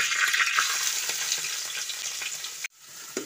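Chopped onion, green chili and ginger sauté in a pan with dried red chilies for Kerala-style semolina upma. A loud, close, continuous sizzle cuts off abruptly near the end, then resumes faintly.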